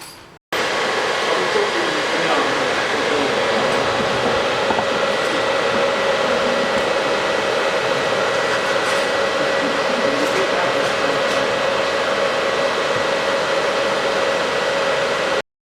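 A homemade induction heater runs with a loud, continuous whirring roar and broadband hiss. It stays steady and close for the whole stretch, with no talking over it.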